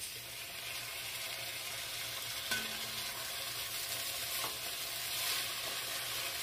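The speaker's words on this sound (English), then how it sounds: "I'm just going to go ahead and saute the peppers for about a minute." Peppers and tomatoes sauté in a pan with a soft, steady sizzle, quiet and continuous, with a brief stir partway through and no voices.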